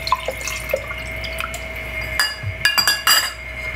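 Two tablespoons of apple cider vinegar mixed with water in a glass: soft drips and liquid sloshing, then a few bright clinks of glass and metal, close up and without talk.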